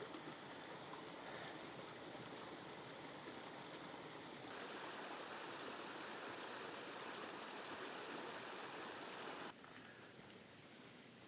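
Steady broadband rush of a river flowing nearby below a set of steps, near Cusco, continuous and fairly loud throughout with no voices.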